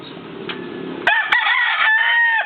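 A fighting cock, a rooster that won its bout, crows loudly and close by in one long strained call, with a faint cluck beforehand over quiet background noise.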